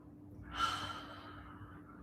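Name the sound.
deep breathing during a Pilates exercise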